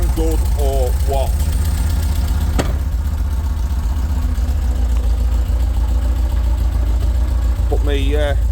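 A VW T25 van engine idles with a steady, throaty rumble from a sports exhaust, close by and continuous, while a voice briefly speaks over it.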